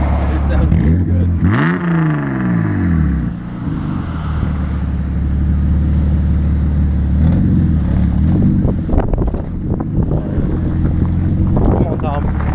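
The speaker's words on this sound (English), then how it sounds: "I love this car. It sounds really good." A car engine revs up and settles into a loud, steady drone, with wind buffeting the microphone and people talking over it.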